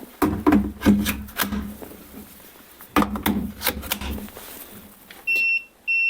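A few wooden knocks and rubbing clatters, then two short electronic beeps from a Procraft PCA42/2 cordless chainsaw releasing its automatic brake near the end, close by.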